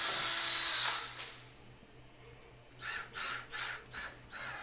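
Power drill boring screw holes into MDF for a plate amplifier mount: a loud, steady whine for about a second, then a pause and several short, close bursts of drilling.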